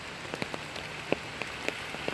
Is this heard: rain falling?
yes